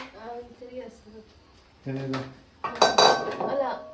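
Metal pots and dishes clatter and clink in a kitchen, a sharp burst of ringing metallic knocks toward the end, with people talking nearby.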